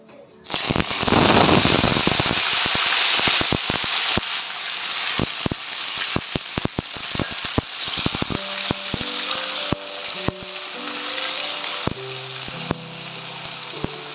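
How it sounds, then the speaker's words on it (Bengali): Onion paste drops into hot oil with whole spices for an onion chicken curry, bursting into a loud, crackling sizzle that calms into steady frying with sharp pops and clicks over about fourteen seconds. "ফোড়নটা হওয়ার পর এই পেঁয়াজ বাটাটা ছেড়ে দেবো।"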